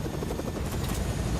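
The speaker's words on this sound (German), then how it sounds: "Du fliegst zwar den Helikopter" A helicopter in the Fortnite video game drones steadily with a broad, dense rotor-and-engine rumble, loud and unbroken throughout, with no voices over it.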